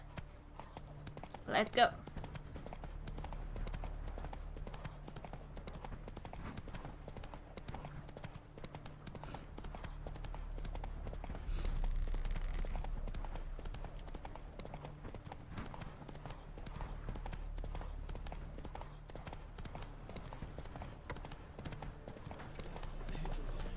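Horse hooves clip-clop at a steady trot across The Witcher 3 game world, a continuous rhythmic patter under a low ambient drone, while someone talks over it.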